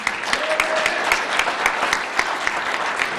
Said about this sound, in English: Give him another round of applause there.